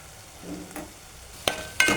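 Spice mixture sizzles in a hot pan while a spoon stirs it, giving soft scraping strokes and two sharp clinks against the metal near the end, close and alone.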